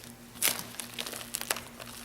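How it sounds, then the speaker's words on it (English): Release paper peeled from a miniSQUAIR adhesive wound dressing gives soft, brief crinkling and tearing crackles, close and quiet, in a few short bursts. "the release paper is taken off, the adhesive layer is now exposed"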